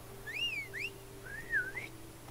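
In The Witcher 3: Blood and Wine, a player whistles to call a horse: two quick rising-falling whistle notes, a brief pause, then a longer wavering whistle, clear and alone over faint game ambience.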